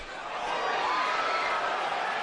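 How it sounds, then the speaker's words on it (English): Boxing arena crowd at a Canelo versus Amir Khan bout, a steady broad roar of oohs and ahs swelling slightly and holding loud throughout. "Crowd oohs and ahs as again Canelo lands the left."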